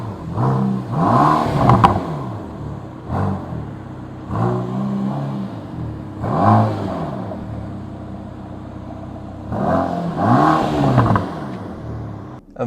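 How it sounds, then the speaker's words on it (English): A Mercedes-AMG GT Black Series flat-plane V8 engine revs repeatedly in loud bursts, rising and falling with deep rumbling between each throttle blip, close by. "So let's start the engine"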